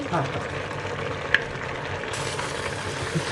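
Boiled pasta tipped into a frying pan of cooked beef sets off a steady, busy sizzle and crackle, with a small clink of utensil against the pan partway through.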